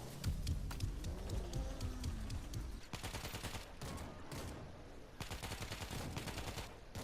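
Gunfire from the World War Z video game on PS4 crackles in dense bursts, with automatic weapons rattling in rapid repeated volleys, loud against a busy background of game noise, with no speech.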